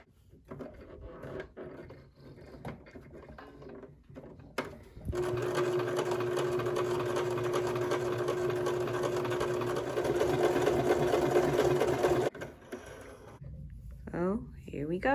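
A basic sewing machine stitches a zigzag seam through doubled stretch knit fabric, a loud steady whirring hum running for about seven seconds, with someone talking before and after.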